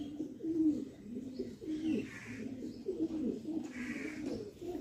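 A pair of Kalshira pigeons keeps up a steady, low cooing, with repeated throaty phrases rolling along close by and no voices over them.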